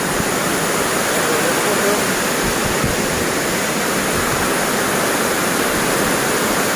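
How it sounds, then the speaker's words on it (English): Direntha waterfall at Putsari in West Karbi Anglong, a steady, loud, broadband rush of falling water that stays constant throughout without a break. "Hello Direntha Waterfalls so."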